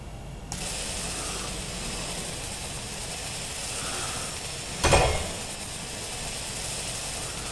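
Welding tool in the Space Engineers video game, a steady buzzing mechanical whir that starts abruptly and holds for several seconds, with one sharp louder burst midway and no talking.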